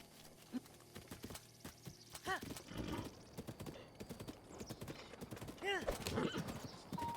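Steady clip-clop of horse hooves at a gallop in Zelda Breath of the Wild, with an occasional whinny, soft and continuous beneath quiet game sounds and a voice.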